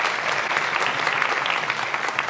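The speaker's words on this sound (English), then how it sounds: "Give her another round of applause." Sustained audience applause for a school staff member at a district staff recognition event, a dense even wash of clapping filling the whole moment without talk.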